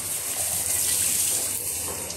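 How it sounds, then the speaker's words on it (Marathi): Water splashing and gushing outdoors as a child is playfully drenched, a steady continuous wash of spray close by with no speech over it. "पाणी उडायले"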